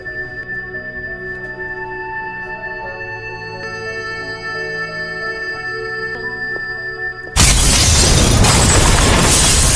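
A huge explosion erupts inside the Indian embassy in a film scene: a sudden loud, broadband blast bursts in after a quiet stretch of sustained tones and keeps roaring to the end.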